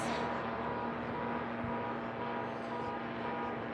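A STOL light aircraft propeller engine at a STOL drag race, a steady droning hum heard at moderate distance and fairly faint, constant with no talking over it.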